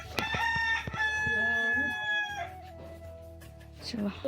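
Chickens cluck nearby, with a drawn-out, crowing-like call rising above the short clucks at close range.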